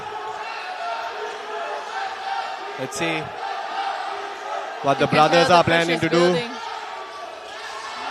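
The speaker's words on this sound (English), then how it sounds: "You can tell the pressure is building by how loud the crowd is becoming by each passing second." A loud, excited crowd at a basketball league final roars and whoops in an arena while a commentator talks over the noise, with sharp bursts of cheering swelling midway.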